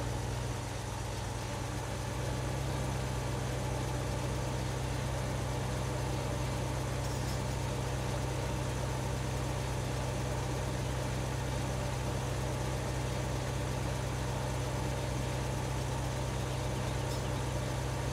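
In Farming Simulator 2015, a Unimog tractor engine runs steadily while powering implements, giving a constant, loud, low mechanical drone with a steady hum that continues without change throughout.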